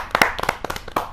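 A brief burst of a few audience claps for poet Prashant Awasthi Prakhar at a kavi sammelan, close and irregular, with roughly eight quick hand slaps in just over a second.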